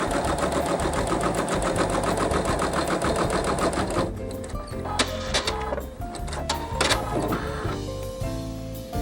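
An embroidery machine stitches out a color change on fabric, a fast mechanical rattling whir at close range that shifts partway through to a lighter, more uneven clatter of needle strokes.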